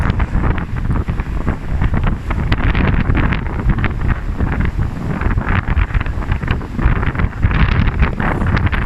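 Strong wind at a very large lake buffets the microphone in loud, continuous gusts, roaring and rumbling with uneven surges and no voices.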